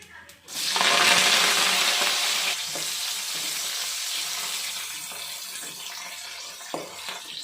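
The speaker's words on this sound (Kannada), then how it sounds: "ನೀಟಾಗಿ ಇದನ್ನು ಫ್ರೈ ಮಾಡ್ಕೊಳ್ಳೋಣ" Mustard seeds and chopped onion crackle and sizzle loudly in hot oil as they hit the pan, then settle into a steady frying hiss with a few clinks of a spoon.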